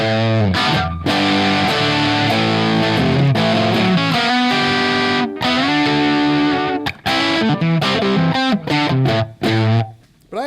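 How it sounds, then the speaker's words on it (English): An electric guitar played through an amplifier with a light touch of reverb rings out in sustained, driven chords and picked notes, loud and close, with short breaks between phrases and no voices. "I have a tiny bit of verb on here."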